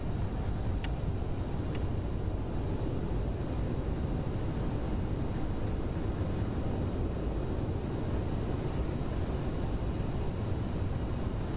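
A CRJ jet's thrust reversers roar during landing rollout in Microsoft Flight Simulator 2020, a dense, steady broadband rush filling the whole stretch with a couple of faint clicks early on.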